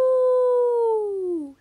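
A human voice imitates a dog howling: one long sustained "aroo" that holds its pitch and then slides downward and fades at the end, clear and close with nothing else heard.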